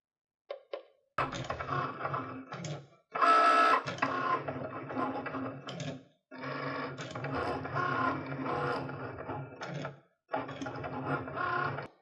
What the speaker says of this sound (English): Press the flashing Go button to begin drawing.